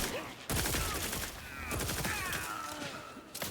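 A chaotic firefight in The Outer Worlds 2 crackles with overlapping gunshots, a loud cluster of shots at the start and scattered cracks through the rest, mixed with game effects.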